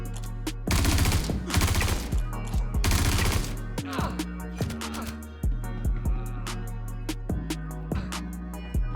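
Behring P8-SC submachine gun firing in the video game Star Citizen: rapid automatic bursts of crisp, punchy shots, first sustained strings, then shorter clipped bursts and single taps, loud and close, with no speech.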